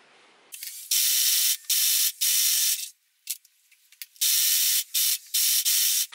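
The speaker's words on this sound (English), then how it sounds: "I'm gonna go over to the overlock machine and overlock all this." An overlock machine stitching the seams of a linen dress, running in several loud bursts of a second or so each, separated by short pauses and small clicks of handling.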